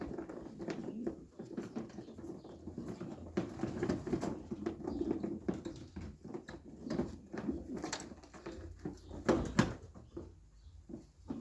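Faint, soft cooing and rustling from a racing pigeon, a hen held during a sale presentation, with intermittent wing flutters and scratchy patter close by.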